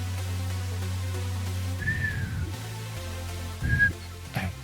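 Two short, high whistle tones sound in the video game Trails Through Daybreak II, each a brief clear note over a low steady hum of game ambience, with soft thuds beneath.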